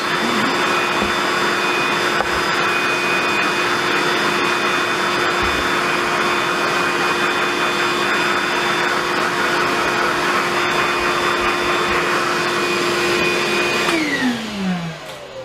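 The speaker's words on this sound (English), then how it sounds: "all I'm going to do is just hoover up the crap out of it" A loud vacuum cleaner runs steadily for about fourteen seconds while hoovering debris out of a dismantled Erbauer impact driver, its constant whine holding pitch before it winds down and stops near the end.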